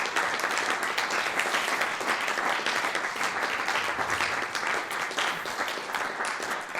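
An audience in a hall applauds for people being introduced at a crowdfunding event, steady dense clapping from many hands, fairly close and continuous throughout.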